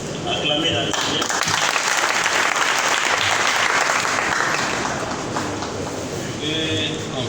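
A church congregation at a prayer gathering held at a sugar factory claps loudly and continuously, a dense wash of applause that swells in the middle and then eases slightly toward the end.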